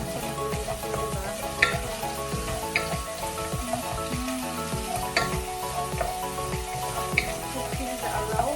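Garlic frying in a pan as the start of a chicken curry with potato, giving a steady, close sizzle with occasional stirring scrapes and small pops throughout.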